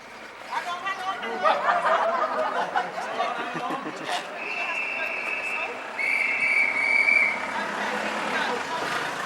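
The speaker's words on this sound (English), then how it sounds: "Ed, would you like to whistle?" Amid crowd chatter and voices, a whistle sounds faintly in the distance, two drawn-out tones rising over the background noise.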